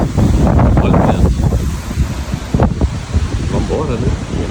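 Strong wind blowing in Patagonia on the road between El Chaltén and El Calafate, a loud, steady rush buffeting the microphone throughout, with a person talking over it.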